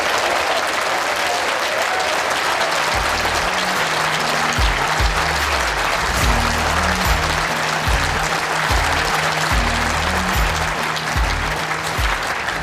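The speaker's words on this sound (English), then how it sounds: "Can we continue that round of applause for our runners-up for that match" Sustained applause from the crowd at an indoor bowls championship pairs final, broad and even throughout, with a low tonal hum underneath and no speech.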